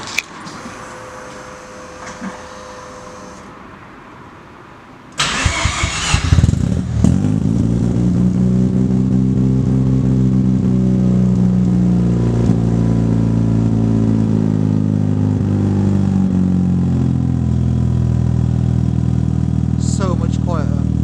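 Mazda RX7 FD rotary engine with a new exhaust, off the ramps: after a quiet start with some low talk, it cranks and catches abruptly, then runs loud and close at a rumbling, steady idle for the rest.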